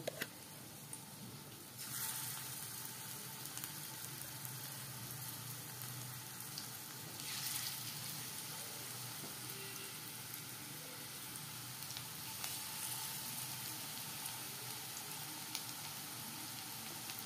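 Onion fritters (peyaji) fry in oil over a lowered gas flame, giving a faint, even, continuous hiss and sizzle with no talk.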